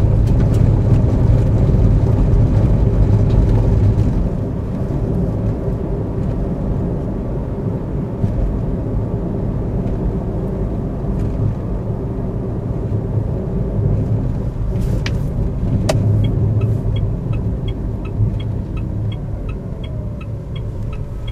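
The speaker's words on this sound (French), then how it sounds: "Et ça fait 5 km qu'on roule sans problème avec la batterie indiquée vide." A 2012 Mitsubishi i-MiEV electric car cruising with its battery reading empty, giving a steady low road and tyre rumble with a faint electric whine, continuous and close throughout.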